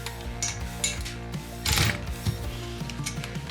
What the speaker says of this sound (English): I have to use a ratchet to break them loose